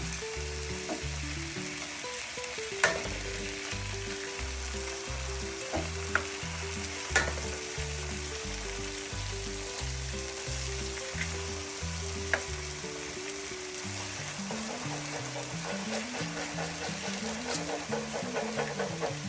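Eggs fry in avocado oil beside fried rice in a pan, giving a steady close sizzle with occasional sharper crackles and pops throughout, and a low rhythmic tone runs beneath; no one speaks.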